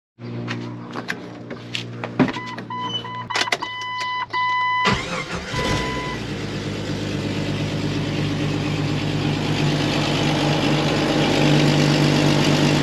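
Clicks and a whirring crank give way to a Jeep Wrangler engine catching after a water pump replacement, then settling into a loud, steady idle rumble that carries on to the end.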